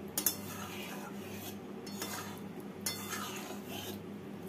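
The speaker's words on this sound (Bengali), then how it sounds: "রসের মধ্যে ভালো করে নেড়ে দিচ্ছি।" Palm-syrup fritters stirred in a pot of hot syrup: a few quiet scrapes and clinks of a utensil against the pot, spaced apart, with no voices.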